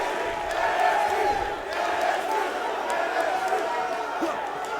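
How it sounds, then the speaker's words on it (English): A steady roaring arena crowd from the WWE 2K19 wrestling video game, with a pro-wrestling event on screen, runs throughout at moderate level beneath a commentator's voice. "This crowd is on their feet."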